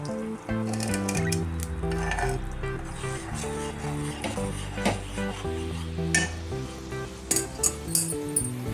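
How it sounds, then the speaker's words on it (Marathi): Jaggery melted in water is sautéed in a pan over low flame for sesame-jaggery laddoos, a soft sizzle with clinks and scrapes of a spoon stirring against the pan, fairly quiet. "पाणी केलेलं गुळाचं ते आपण परतून घेऊया."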